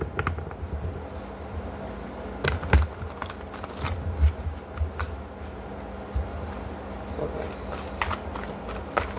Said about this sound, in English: put two decks together, so I gotta shuffle it more than normal.